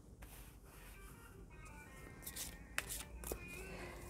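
Oracle cards are laid out and shuffled on a table during a French astrology reading, giving soft rubbing and sliding swishes with a few sharper card snaps near the end, fairly quiet and close.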